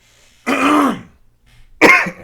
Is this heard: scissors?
no